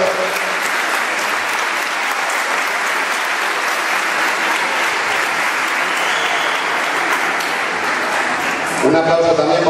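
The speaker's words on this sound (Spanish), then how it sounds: "Un aplauso." A crowd claps loudly and steadily at a sports festival presentation in Colunga, with dense sustained applause that ends abruptly near the close.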